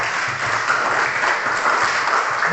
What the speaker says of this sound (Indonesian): Tepuk tangan untuk dua teman kita.